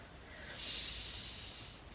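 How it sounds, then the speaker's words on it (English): Slow breathing through the nose during a yoga core workout, one soft drawn-out breath swelling and fading alone, close and quiet. "Breathing in and out."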